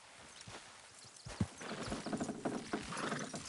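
Horses clip-clopping in Red Dead Redemption 2, hooves thudding in an uneven walking rhythm over a steady game ambience, growing busier and louder in the second half.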